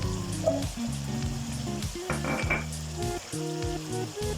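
Chopped capsicum goes into garlic sautéing in a frying pan, making a steady close sizzle and crackle with bubbling, no voices.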